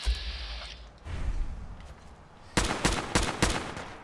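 Gunfire in the video game Fallout 4 Far Harbor: a muffled thump early, then a quick burst of four sharp, loud shots in rapid succession near the end.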